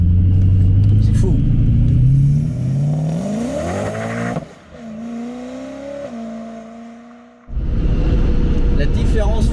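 Supercharged BMW M3 E92 engine, its supercharger constantly driven by the running motor, revs up loudly with rising pitch, drops off briefly, then surges again, heard close and strong while a person talks over it.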